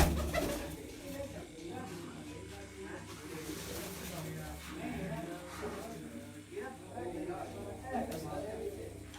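Racing pigeons coo on a rooftop in a steady, low murmuring chorus that runs throughout, heard beneath continuous talking.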